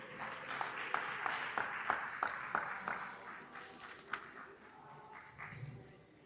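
Audience at an alumni mentoring event applauding to welcome the alumni relations director, moderately distant clapping from a crowd that thins out over several seconds, with faint murmurs.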